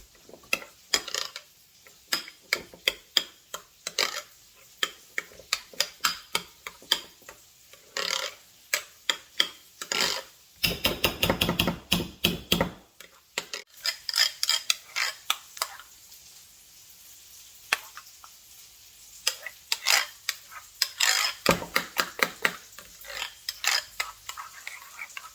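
Homemade hamburger ingredients get stirred and mixed in a bowl in a home kitchen, producing irregular clicking, tapping and squishing knocks that come in bursts between quieter pauses.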